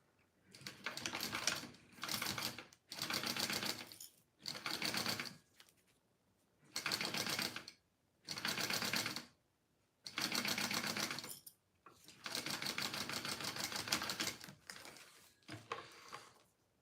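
A sewing machine bastes the side seam of a crossbody bag in short bursts of rapid clattering stitching, separated by brief pauses, quiet and close with no talking.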